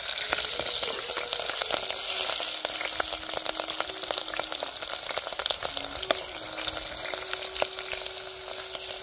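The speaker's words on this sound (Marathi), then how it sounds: "तर आता फोडणी देऊया आपण" Crushed garlic and cumin tempering in hot oil on a wood-fired stove outdoors on a farm, a continuous close sizzle with frequent sharp pops and crackles, no voices.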